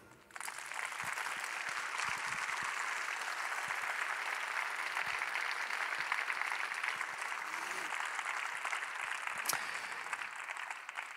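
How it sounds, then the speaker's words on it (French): An audience at a talk on social, environmental and climate crises applauds in tribute to someone who has died, a broad, steady wash of clapping that starts abruptly and holds evenly for about ten seconds before easing off. "je vous demande de l'applaudir"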